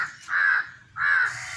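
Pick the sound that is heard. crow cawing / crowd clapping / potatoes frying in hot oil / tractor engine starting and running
crow cawing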